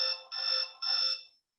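An electronic alarm marking the end of a quiz round beeps three times in quick succession, clear and alone, then stops.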